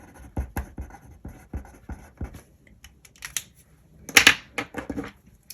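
A pen writes on Happy Planner paper pages, making soft, close scratching strokes in irregular bursts, with a few louder scrapes near the end.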